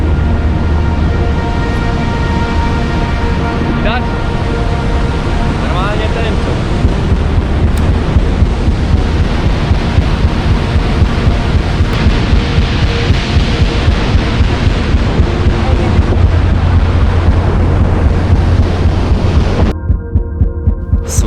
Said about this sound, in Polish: słyszycie ten ogrom spadającej wody?